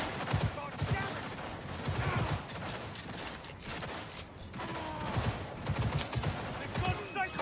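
Rapid automatic gunfire in the video game Cyberpunk 2077, with dense overlapping bursts throughout and game voices talking over the shooting.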